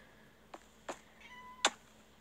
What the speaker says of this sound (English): Now my cat's here.